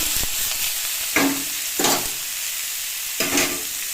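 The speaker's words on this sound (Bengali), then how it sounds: "তেল দিয়ে দিয়েছি, এখন এই শাকটা দেবো" Radish greens frying in hot oil in a pan, a continuous sizzle broken by a few short stirring clatters spaced through the clip, with no voices.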